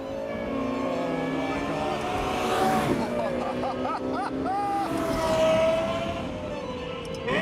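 A Lexus LFA's engine, with its intake and exhaust, revs up in rising sweeps, climbs again to a second peak and then settles to a held tone, heard fairly clearly over a low background.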